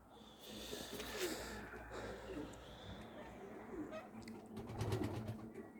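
Pigeons near a house with construction starting beside it, low soft cooing calls repeating on and off, close and moderately loud over a rough background of outdoor noise and brief knocks.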